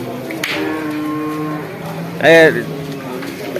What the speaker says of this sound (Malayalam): എരുമ